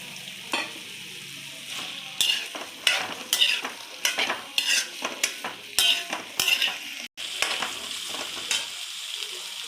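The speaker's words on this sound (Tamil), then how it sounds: "இப்போ இஞ்சியை வதக்கிறதுக்கு 2 கரண்டி ஆயில் விட்டுக்கிறேன். நல்லெண்ணெய் விட்டுக்கிறேன்." Finely chopped peeled ginger sizzles and fries in sesame oil in a pan while a spoon stirs it, with scraping strokes and clinks of metal against metal over a steady hiss, close and fairly loud.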